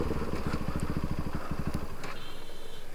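A Bajaj RS200 BS3 motorcycle with an Akrapovic full-system exhaust burbles close by in rapid, throbbing pulses, then settles into a lighter, quieter idle.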